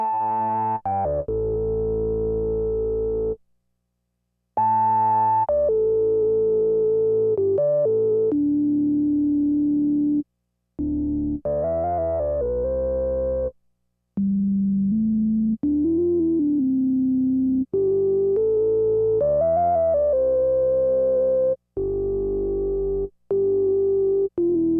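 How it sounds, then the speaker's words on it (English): Minimoog synthesizer oscillators playing sustained notes through its filter, a series of buzzy tones with shifting pitch and sweeping resonant timbre, separated by brief silences, close and clear with no voices. "So we'll start with this Minimoog."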